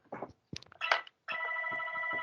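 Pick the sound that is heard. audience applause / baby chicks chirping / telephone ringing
telephone ringing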